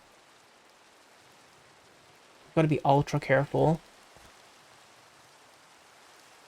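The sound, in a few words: rain in the video game Minecraft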